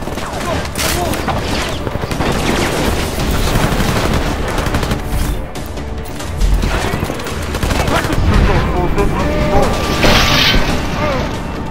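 Combat gunfire from the cyberpunk action game Deus Ex: Mankind Divided, with rapid automatic bursts, booms and mechanical clatter layered densely and loudly throughout, with some talk underneath.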